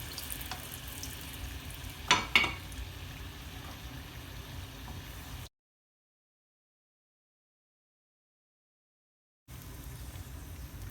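Naan bread puri frying in hot oil, a steady low sizzle with a couple of sharp crackles near the start, then a stretch of silence before the frying noise returns.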